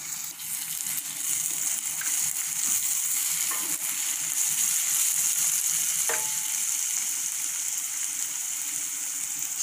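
Stuffed brinjal masala sautés in a pan with a strong, continuous hiss and sizzle, close up, broken by a couple of faint utensil taps against the pan.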